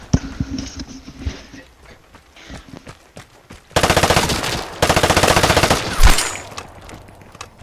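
Rapid video-game machine gun fire from a PPSh submachine gun, loud sustained bursts crashing in after quieter scattered shots and game ambience, with a final heavy blast near the end.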